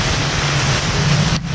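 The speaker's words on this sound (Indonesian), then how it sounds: "Hujan lebat sekali." Heavy rain pours outdoors beneath a bridge, a loud, dense, continuous hiss of falling water that drowns out other sound.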